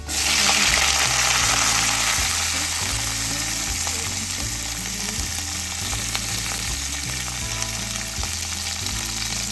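Garlic frying in a pan for a samak rice vrat dish, a steady loud sizzle running throughout with occasional stirring scrapes and clinks, no voices.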